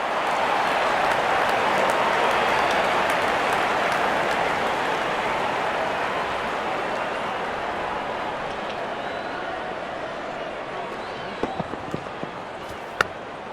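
A large stadium crowd in the Real Cricket 24 video game roars in a broad, steady wash of cheering during a T20 match between Pakistan and Australia, fading slightly over time with a few sharp knocks near the end.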